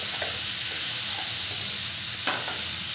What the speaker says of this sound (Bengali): এবারে আমি দিয়ে দেবো এখানে পেঁয়াজ